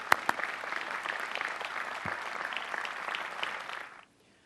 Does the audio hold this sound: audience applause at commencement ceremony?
yes